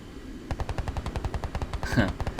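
Rapid machine-gun fire from aircraft in a video game air battle between an F-84G jet and a Me 163, heard as a steady, close stream of evenly spaced, punchy shots that continues throughout.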